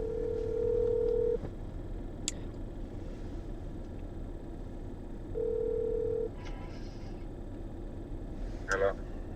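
Phone call tones on an outgoing telephone call, two long steady electronic beeps several seconds apart over a low rumbling background, with a few brief clicks near the end.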